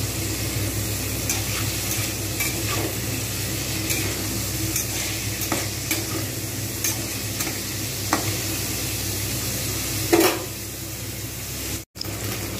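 Paneer pieces fry slowly in hot oil for a cauliflower and paneer dish, a steady even sizzle held throughout with occasional faint clicks and a brief clatter near the end, no talking.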